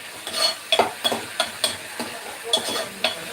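Vegetables sauté in a pan for potato kurma, with rhythmic scraping stirs roughly every half second over a soft continuous sizzle.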